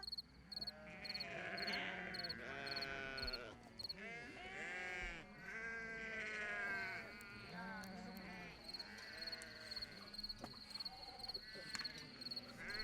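A flock of sheep on the move along a road in Georgia bleats over and over, many overlapping calls near and far, with a constant high hum underneath and some background voices.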